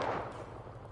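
A burst of rapid gunfire in the video game Enlisted crackles loudly at the start and keeps rattling through the second, with a low rumbling beneath and no voices.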